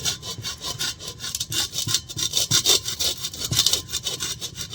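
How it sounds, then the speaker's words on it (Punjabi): An old clay water pot (matka) is sawn with a hand saw, giving close, loud rhythmic rasping strokes that come in quick back-and-forth bursts with no talking. "ਬਹੁਤ ਹੀ ਆਸਾਨੀ ਨਾਲ ਇਹ ਕੱਟ ਰਿਹਾ ਹੈਗਾ ਆਪਣਾ ਘੜਾ"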